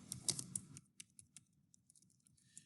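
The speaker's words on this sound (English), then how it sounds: "I'm going to type in the descriptor and then my name." Keys on a computer keyboard being typed, a quick cluster of soft clicks at the start followed by sparse, lighter taps, close and fairly quiet with no talking.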